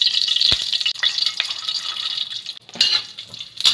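Pork lard cracklings stir-fried in a wok at a Malaysian dai pai dong for claypot lou shu fun, with loud close sizzling, spatula scrapes and a few sharp clanks.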